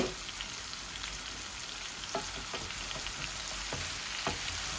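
Mrigal fish fries in a pan with a steady, quiet sizzle and occasional light clicks of stirring throughout, with no talk.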